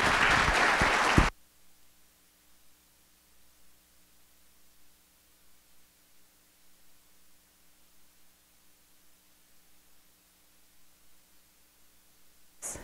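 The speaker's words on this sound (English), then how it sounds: "You give her a round of applause" A lecture audience gives a short round of applause for a visiting speaker, a loud, dense burst of clapping that stops abruptly after about a second, leaving near-silent room hum.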